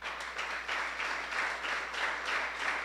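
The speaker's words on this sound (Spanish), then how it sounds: "¿Cuánto le dan un aplauso al Señor?" A church congregation applauds during a sermon, a steady, moderately distant patter of many hands clapping that swells in waves.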